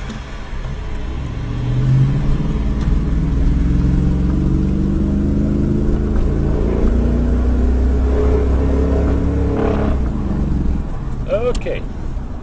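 A truck engine billed as running on water is turned back on and revved, giving a loud, close, rising and falling rumble across the whole span, with people talking over it and a brief squeal near the end.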